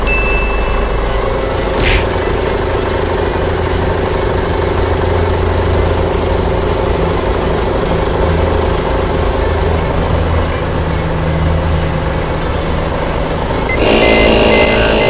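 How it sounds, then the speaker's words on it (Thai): A ten-wheel truck's large 344-horsepower diesel engine idles steadily with a deep, constant rumble, close by, and a brief higher whine partway through. "เครื่องยนต์นะครับ"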